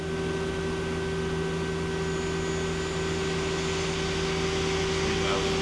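The spindle of a Mazak Quick Turn Nexus 200-II CNC turning center runs quietly, a steady even hum with faint tonal whine that holds constant throughout, heard alone.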